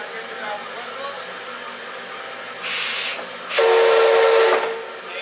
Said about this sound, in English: Now here's the valve whistle.